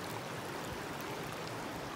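Steady broadband rush of a river flowing over stones at Fonte Benemola, near and continuous, with no voices.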